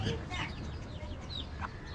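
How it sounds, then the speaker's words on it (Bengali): A hen with ten or twelve local desi chicks on a home rooftop, heard as soft, close clucking with faint peeping chicks over steady background noise, a few short calls in two seconds. "একটা মুরগির সাথে প্রায় এখানে দশটা বারোটা বাচ্চা আছে"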